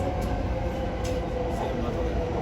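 JR Chuo Line E233 series 0-番台 commuter train, set H52, running between Kokubunji and Nishi-Kokubunji, heard from inside as a loud, continuous rumble of motors and wheels on track, with faint clicks over the steady roar.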